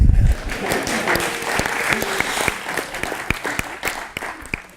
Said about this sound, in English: Another round of applause for Sally.